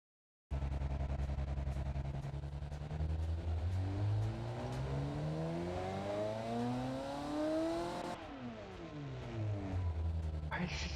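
A drag racer engine in BeamNG.Drive revs up steadily over several seconds, its harmonics rising toward 5,000 RPM, then drops briefly before climbing again, loud and continuous with a voice talking over it.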